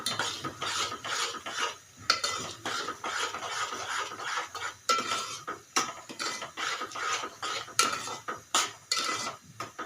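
Vermicelli kheer being stirred in a pan after sugar, almonds and raisins go in, with a spoon scraping and clinking against the pan in a steady, repeated rhythm, close and fairly loud, with no talking.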